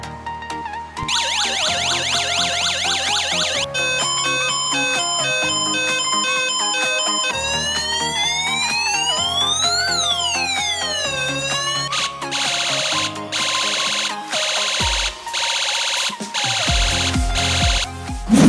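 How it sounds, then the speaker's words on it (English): A DIY UM3561 IC siren generator circuit cycling through electronic police and ambulance siren tones: loud continuous warbling, rising-and-falling wails and fast chirping patterns that switch from one mode to the next. "how to make a simple 4-channel Siren sound generator circuit by using UM3561 IC"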